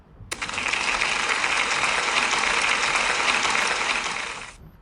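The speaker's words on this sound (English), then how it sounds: "Big round of applause for Eric." Enthusiastic applause starts abruptly, holds as a dense, loud clatter of clapping for about four seconds, then fades out.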